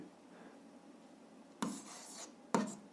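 A pen writes a physics equation on paper, two short scratchy strokes standing out against a quiet room, close and faint.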